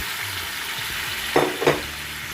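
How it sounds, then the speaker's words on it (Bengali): Spices and boiled dal sautéed in oil in a pan, a steady low sizzle broken by a couple of sharp stirring scrapes, heard up close and alone. "এবার কষিয়ে তেল বের করে নেব"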